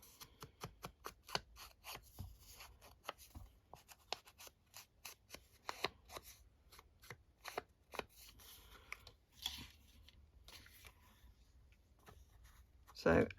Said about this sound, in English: just gonna snip in slightly here